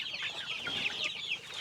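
Young pullets on a small farm cluck and chatter softly in a steady, overlapping flock murmur, heard close and without any talk.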